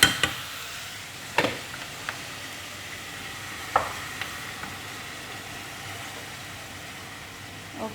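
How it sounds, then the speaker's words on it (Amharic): Chicken with garlic and ginger fries quietly in a pan under a soft steady sizzle, broken by a few sharp scrapes and taps of a spatula stirring, close and with no voices. "እንደዚህ ጠበስ እናደርገዋለን።"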